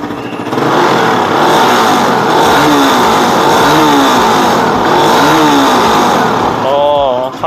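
Motor scooter engine revving hard through a loud aftermarket exhaust at a motorcycle workshop, rising and falling in repeated throttle blips, close and loud, with people talking over it.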